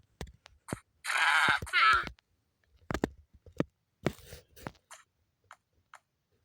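A goat lets out one long, wavering bleat, surrounded by scattered clicks, taps and soft rustling in an otherwise quiet space.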